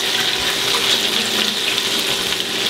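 Running water poured into a pan of browned meatballs and onions with tomatoes while cooking, a steady close hiss of flowing water that continues without a break.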